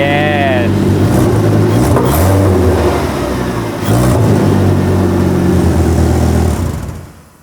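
A 2.5-litre five-cylinder engine running with no exhaust fitted, straight out of the header, loud and raw, revving and holding a harsh idle for several seconds before fading; someone talks over it.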